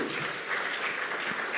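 Audience applause at a tech talk on search and recommendation systems, a soft, steady wash of scattered clapping across the room that holds at an even, moderate level.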